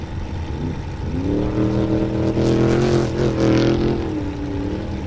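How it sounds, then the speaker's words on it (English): An off-road race car on the Ridgecrest course during KMC qualifying builds to a loud engine roar with rising and falling revs, peaking mid-clip and easing slightly toward the end. "Mike Boo, number 54, hot on course for today's KMC qualifier"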